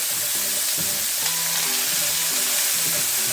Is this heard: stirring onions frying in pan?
yes